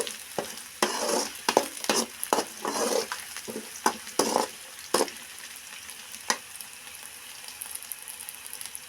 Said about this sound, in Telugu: ఇప్పుడు వేగిపోయిందండి ఇది